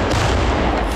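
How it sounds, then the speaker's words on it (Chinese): Rifle fire, rockets and grenades boom in a snowy forest battle against trenches, a dense, loud burst of blasts and gunfire with no speech. "步枪、火箭弹、手榴弹轮番轰炸，步步进逼俄军藏身的壕沟。"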